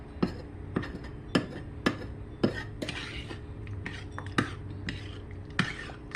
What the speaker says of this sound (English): now you're going to stir those things up